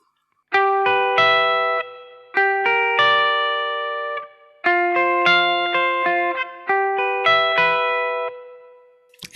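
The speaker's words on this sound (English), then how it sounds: "Nothing fancy, a clean sounding rectifier amp. And a little bit of natural reverb." An electric guitar plays through a clean rectifier amp profile on a Kemper Profiler with light natural reverb, picking ringing chords and arpeggiated notes in several phrases separated by short pauses, each decaying smoothly.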